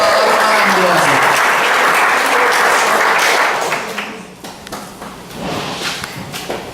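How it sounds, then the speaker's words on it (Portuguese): A church congregation at a Pentecostal mission service bursts into loud applause, dense clapping for about four seconds before it drops and breaks into scattered claps with some voices. "Uma salva de palmas para o nosso Senhor"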